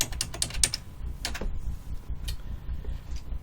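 Quick bursts of clicky keystrokes on a computer keyboard, close and fairly crisp, come in a few uneven clusters with short pauses between them while a name is typed in.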